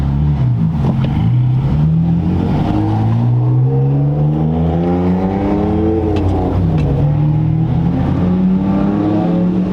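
A loud, lowered BMW E46 engine revs up and down in long sweeping pulls at a drift event, roaring close by and continuously with no talking.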